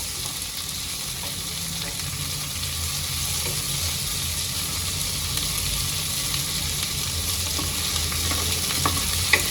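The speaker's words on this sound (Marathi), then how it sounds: "मी चांगलं तेलामध्ये तळून घेते कमीत कमी तीन ते चार मिनटापर्यंत एकदम स्लो गॅसवर" Flat beans (val papdi) fry steadily in oil over a low gas flame, a continuous broadband sizzle with occasional stirring scrapes, close and even throughout with no talking.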